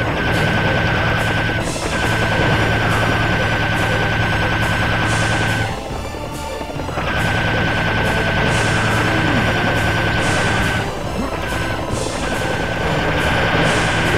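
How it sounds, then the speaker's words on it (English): A rapid-fire laser rifle in Serious Sam, a dense, continuous buzzing stream of shots in long bursts with short breaks, loud and close, with no talk over it. "the laser rifle is the most effective weapon against clears."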